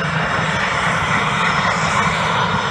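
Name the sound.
F-86 Sabre jet taxiing up the runway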